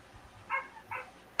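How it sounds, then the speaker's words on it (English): Several dogs bark outside in a few short, muffled bursts, distant and faint, as if heard through a wall while kids eat dinner indoors. "my dogs are out there going nuts because my kids are eating dinner."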